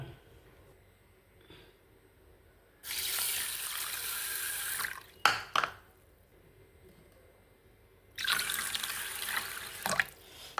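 Water runs from a tap into a bowl of sago pearls to soak them, two distinct bursts of gushing flow separated by quiet, with a few sharp splashes and clinks.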